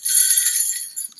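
A cheap toy jingle stick from Target is shaken once, giving a brief, bright, close metallic jingle of small bells that rings for about a second and then cuts off.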